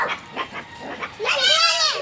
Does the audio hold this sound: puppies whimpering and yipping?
yes